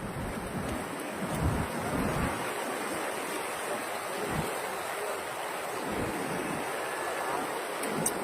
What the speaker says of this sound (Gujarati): ધાંધ્રા રેલ નદી બે કાંઠે વહેતી થઈ ગઈ છે.